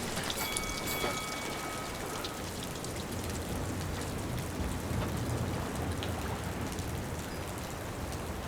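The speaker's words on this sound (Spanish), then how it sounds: "Mira cómo chorrea el barco las gotas de agua." Water streams and drips steadily off a boat in the video game Syberia: The World Before, a constant dense patter like rain, moderately loud and unbroken, with a faint tonal hum near the start.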